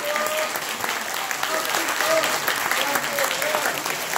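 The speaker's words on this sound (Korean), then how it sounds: "이 영화를 만들어준 우리 박준희 깜프가에게 다시 한번 큰 박수 부탁드립니다" An audience at a film event in the National Assembly gives sustained applause for the filmmaker, a dense, even wash of clapping with a few cheering voices mixed in.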